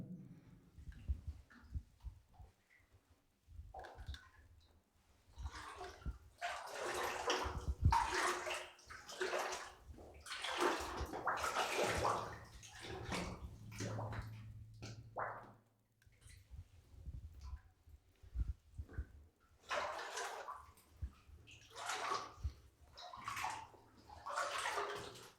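Feet wade knee deep through ice-cold water at an old uranium prospect, sending up repeated splashing, sloshing bursts in an uneven stride rhythm, close by, with short quieter pauses between steps.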